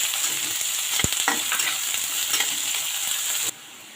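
Chopped onions fry in a pan of garlic and oil for a bitter gourd bhujia, with a constant close sizzle and a ladle scraping and clinking through the mix before the sound cuts off abruptly.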